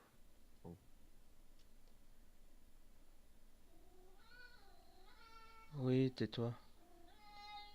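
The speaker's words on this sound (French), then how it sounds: "Ton chat, on dirait un bébé quand il pleure," A pet cat meows loudly indoors in a drawn-out, wailing cry like a crying baby, with a few softer mews before and after and brief talk earlier.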